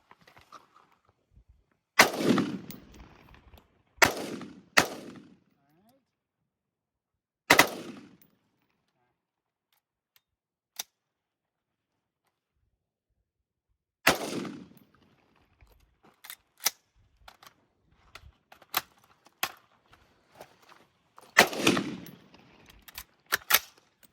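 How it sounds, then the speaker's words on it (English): AR-15 rifle shot in semi-automatic at a pasture, giving sharp, separate reports with gaps between them, several close together and then a later burst, with quiet stretches between. "We're gonna just try semi."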